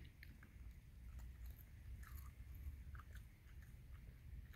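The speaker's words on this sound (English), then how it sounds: "Raccoon, your snout looks funny when you chew like that." A raccoon chews pecans and other hard food up close: a quiet, steady stream of small crunches and bites with no talking.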